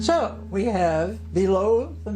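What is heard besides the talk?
No distinct noise like a dog, phone or traffic.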